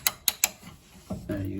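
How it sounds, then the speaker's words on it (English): Three sharp ratchet clicks sound close up as a wrench works a bolt during front brake caliper removal on a 1991 Honda Civic 1.6 VTi EE9, followed by a brief creak and a low voice. "you can support the ratchet with one hand, but when you need a lot of torque, you need both hands"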